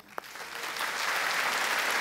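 A comedy show audience begins to applaud after a single sharp sound, the clapping swelling from sparse to a full, steady roar of hands within two seconds.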